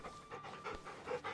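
Torgo, a dog in the video game Final Fantasy XVI, panting in quick, soft, rhythmic breaths, close but quiet, with no talk over it.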